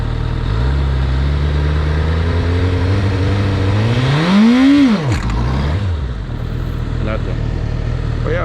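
A liter-class sport motorcycle engine revs hard and steadily during a wheelie attempt with the clutch dumped, pitch climbing to a sharp peak then dropping off abruptly, followed by lower idling rumble; loud and close.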